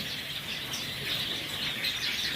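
White Java sparrows chirping and twittering together in a busy, continuous chorus, close by.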